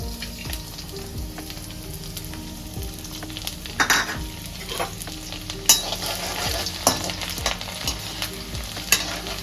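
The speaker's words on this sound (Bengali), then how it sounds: "তেল আমার গরম হয়ে গেছে, আমি এই রসুন কুচিগুলো দিয়ে দিচ্ছি।" Chopped garlic frying in hot oil for home-style chilli chicken, a steady sizzle with intermittent louder crackles and stirring scrapes, close by and without talk.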